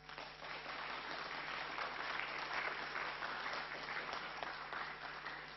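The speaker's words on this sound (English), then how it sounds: "may I have a huge applause for Team CY." A competition audience applauds a team at a consulting case competition, a steady, even clapping texture heard from a distance with a faint constant hum underneath.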